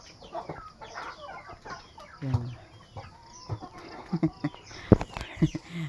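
Chickens and a turkey around a house yard, with irregular clucks and short calls from several birds, some close and sharp, others softer, while a person speaks briefly.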